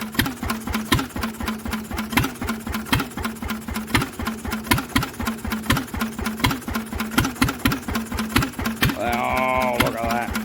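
A Lister engine with no exhaust fitted runs at a steady idle, bolted down for its first start in 40 years, giving a loud, rapid, even chugging beat throughout with a brief whining mechanical sound near the end.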